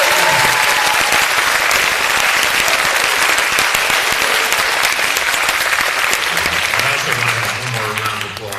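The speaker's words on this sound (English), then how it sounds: "One more round of applause." A school auditorium audience applauds an author after a conversation event, a loud, thick burst of clapping held for several seconds before it tapers, with a voice starting to speak as it dies down.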